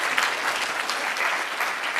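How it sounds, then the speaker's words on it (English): A conference audience gives a brief round of applause, a full, even burst of many people clapping, heard close and steady for about two seconds. "Just a quick applause while I make my way out to Jill"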